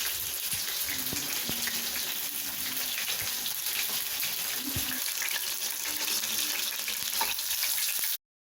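Chicken 65 sizzles and fries in a frying pan over high flame, a steady, close hiss of hot oil running unbroken with faint clinks, no voices.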